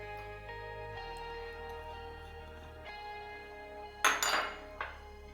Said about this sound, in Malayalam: ഇനി ഇതിലേക്ക് നമ്മൾ നാളികേരം, ശർക്കര, ഏലക്കായ, ചുക്ക് ഇതെല്ലാം കൂടെ ചേർത്ത് തിരുമി എടുത്തു വയ്ക്കാൻ പോവാണ്.